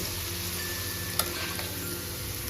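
Mustard seeds for a dhokla tempering sizzle in hot oil, a soft steady hiss with one small pop near the middle, close and continuous.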